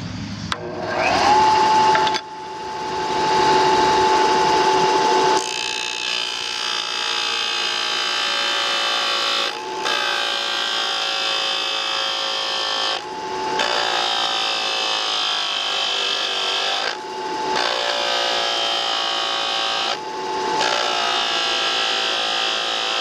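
A disc sander grinds metal telescope pier pieces to length, a loud, steady, high whine with a sustained tone that cuts off and restarts several times in separate passes, with no talking.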